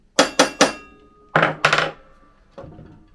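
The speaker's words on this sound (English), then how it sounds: "Let me get a hammer." Sharp hammer blows on a stuck metal part of a record player, three quick strikes, then two more after a pause and a fainter final hit, close and ringing.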